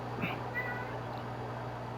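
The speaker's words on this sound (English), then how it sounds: "Yeah, it is my cat. Hold on. Stare at Hazo for a minute. She's crying to let me let her in." A pet cat cries to be let in, giving a short meow or two that sound faint and a bit distant over a steady low electrical hum.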